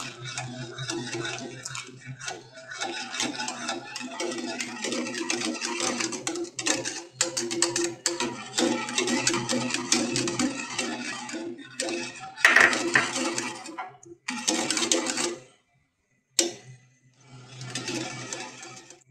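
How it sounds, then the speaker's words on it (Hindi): An electric hand beater mixes custard in a pot over low heat, a steady whirring rattle that runs on and off with brief clinks, cutting out completely for about a second near the end. "हैंड बीटर को चलाते जाएंगे। थोड़ा थोड़ा करके आप इसमें शामिल करेंगे और हैंड बीटर से इसको मिक्स करते जाएंगे।"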